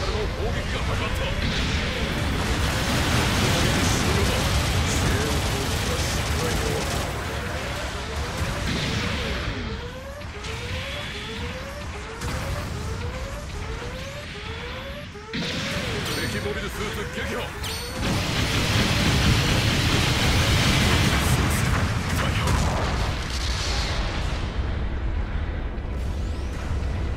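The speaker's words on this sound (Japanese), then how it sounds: "後方部隊からの砲撃が始まった" Support artillery bombardment from rear units in Gundam Battle Operation 2, a dense battlefield roar of repeated booms and blasts with rhythmic firing pulses, loud and continuous throughout under a game voice.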